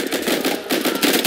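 Dense, rapid automatic gunfire in the tactical shooter video game Insurgency, a steady burst of close, loud shots filling the short moment with no talking.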